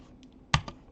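A computer keyboard clacks with one soft keystroke followed by a sharper, louder key press and a lighter release click, close up in a quiet room.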